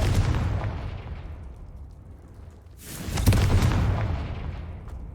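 A Confringo fire spell explodes in Hogwarts Legacy, first as a fading rumble and then as a second loud, broad blast around the midpoint with a sustained roaring tail.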